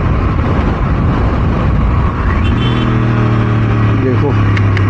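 Road traffic around a moving motorcycle, a loud steady engine and wind roar with a rising tone and a faint horn-like note near the end.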